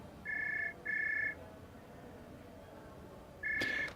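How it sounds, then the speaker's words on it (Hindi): A telephone rings in short electronic bursts, two quick rings close together and then a third after a pause, clear against a quiet room background with no talking. "उसी समय फोन की घंटी बज उठी।"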